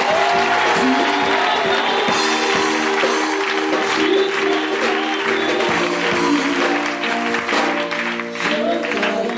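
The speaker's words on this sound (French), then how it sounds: "Si tu le crois, commence à acclamer le Seigneur" A church congregation applauding and cheering to acclaim the Lord during a night vigil, sustained and loud clapping with voices and musical tones underneath.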